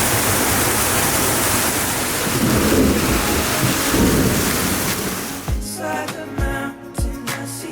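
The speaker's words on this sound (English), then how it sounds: "the storm is absolutely ridiculous" A heavy thunderstorm near Mount Agung in Bali pours dense rain in a loud, steady roar with rumbling thunder, then breaks into closer, uneven gusts and spatters toward the end.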